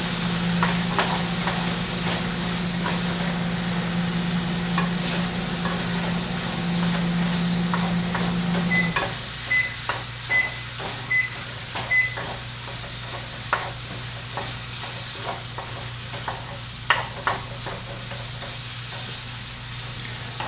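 Mushrooms sizzle and fry in a pan with steady crackling, then scraping and stirring sounds from a utensil break through in short bursts; no voices.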